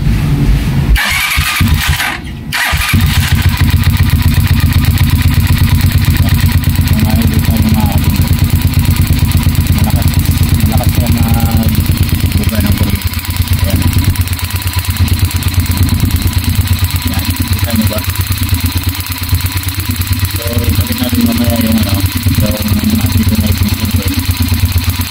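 A motorcycle fitted with its stock ignition coil cranks briefly and starts, then settles into a loud, steady idle that runs close-up for the rest of the clip.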